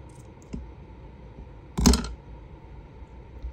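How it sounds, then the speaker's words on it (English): Scissors cutting a piece of paper for a paper doll journal cover: one soft click, then a single sharper, close snip in a quiet room. "I'm just going to snip a piece off"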